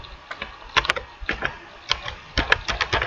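Typing on a computer keyboard during a Scratch coding session: irregular bursts of crisp, close keystroke clicks, some in quick clusters, with brief pauses between.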